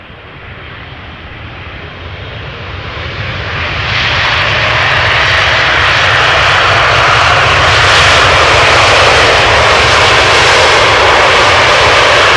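An airliner comes in to land at Amsterdam Schiphol Airport, its loud jet engine roar swelling over the first few seconds and then holding as a broad, sustained rush close by.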